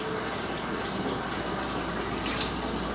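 Water from a salon shampoo bowl sprayer rinses hair, a continuous close, even rush of flowing water that does not break.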